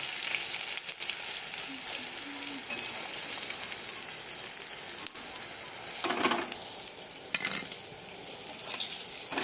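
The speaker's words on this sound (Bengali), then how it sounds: "পটলগুলো ভাজা হয়ে গেছে," Pieces of peeled pointed gourd fry in oil with a constant, close sizzle, broken by a couple of brief scraping sounds toward the end.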